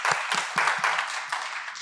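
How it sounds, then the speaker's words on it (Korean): Church congregation applauding together at a Sunday worship service, a dense wash of many hands clapping steadily and moderately loud throughout, with a few sharper individual claps standing out. "우리 영광 받으신 하나님께 함께 영광의 박수 올려드리겠습니다."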